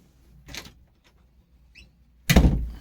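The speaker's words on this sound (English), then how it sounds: "Oh, okay, the door's closed." A door closes with a solid thud near the end, preceded by a softer bump and faint clicks in an otherwise quiet room.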